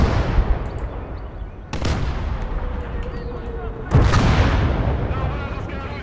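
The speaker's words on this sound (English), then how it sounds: "What I really like is a mortar barrage." In the Gates of Hell war game, a mortar barrage lands in two heavy booming impacts, each followed by a long rumbling roar that fades out, with scattered gunfire crackling in the background.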